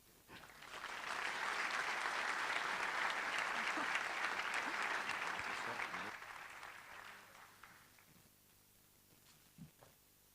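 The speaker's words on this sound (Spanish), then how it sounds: "Otro aplauso, por favor, para Hanna." Audience applause at a talk on education, technopolitics and hacktivism: sustained clapping from a full room for about six seconds, then fading into scattered claps and quiet.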